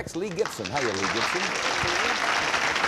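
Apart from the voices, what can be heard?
studio audience applause for a game show contestant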